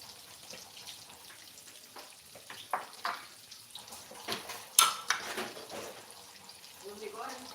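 Ingredients sizzle and are stirred in a pan while cooking sambal pare, with scraping and clinking of a utensil against the cookware, soft frying hiss beneath and intermittent louder clatters.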